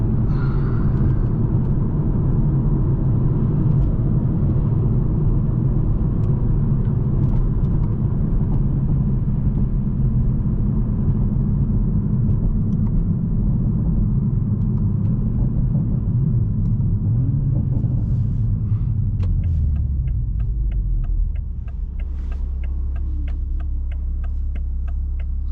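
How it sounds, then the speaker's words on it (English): A Toyota MK5 Supra in sport mode downshifts while slowing for a light. Heard from inside, a loud, low engine rumble drones for most of the stretch, then its pitch falls away near the end as the car settles, with no talking. "Get some downshifts at the light."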